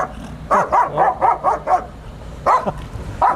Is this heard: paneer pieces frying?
no